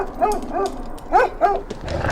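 Dogs give a short run of yelping barks, four or five sharp calls in two quick pairs, loud and near, with no one speaking.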